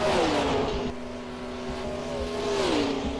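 Race cars on an oval track at Lowe's roar past, loud engine tones rising and falling as the cars go by in close succession, with no talking.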